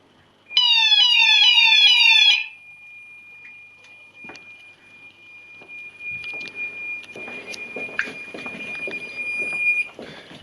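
A Gent Xenex Fire Cryer Plus HD fire alarm sounds during a system test, opening with a loud, rapidly sweeping electronic whoop for about two seconds, then settling into a steady high continuous tone under quieter background clatter.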